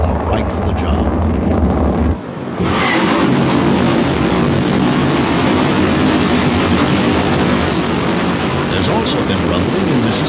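A space shuttle solid rocket motor test firing at a NASA ground station sounds as a continuous, loud, broadband roar with deep rumble, briefly dipping before resuming at full force, with no speech.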